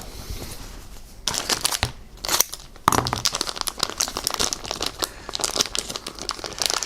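Plastic packaging holding small tyres for a 1/24 scale model car being cut and torn open, close crinkling and crackling in uneven bursts after a quieter start.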